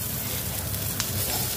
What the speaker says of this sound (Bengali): হালকা একটু পেঁয়াজের মধ্যে ভেজে নিচ্ছি